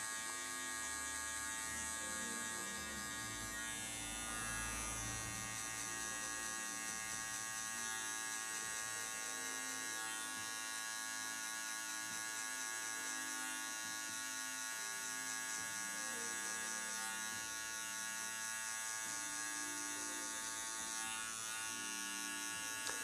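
Electric hair clipper fitted with a half-closed guard comb cuts hair during a fade mohawk haircut, a steady continuous buzz running throughout with no speech.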